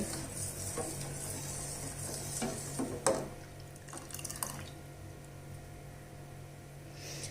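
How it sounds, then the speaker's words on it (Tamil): Sago cooking in milk for payasam is stirred now and then, a soft liquid swish and a few faint spoon scrapes against the pot over a low simmering hiss, with no talking. "பாலில் சேர்த்து அது வரைக்கும் அப்பப்போ கிண்டி விடுங்க, அடி பிடிக்காமல் இருக்கும்."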